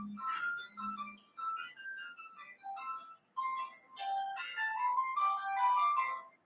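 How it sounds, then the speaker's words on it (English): A phone alarm set for 6 a.m. plays a bright, chiming ringtone melody of quick, repeating tones, fairly clear and steady over several seconds. "No, that was the alarm on my phone."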